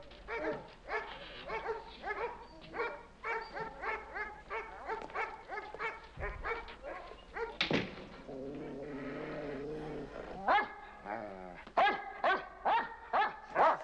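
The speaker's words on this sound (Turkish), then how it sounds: "Güzel köpekler." Several dogs bark repeatedly in loud, rapid bursts, close by, with a longer whining or howling stretch partway through.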